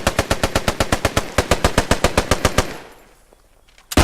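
A Bren light machine gun in the WWII game Post Scriptum lays down suppressing fire, a rapid steady burst of about twenty loud, evenly spaced shots, then a fading echo, a pause and one more sharp shot.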